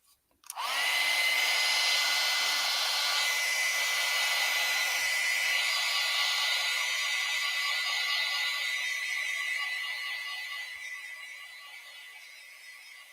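A hair dryer switches on close by and blows steadily over a watercolor painting of leaves, a loud, even whir with a tonal hum that slowly fades toward the end.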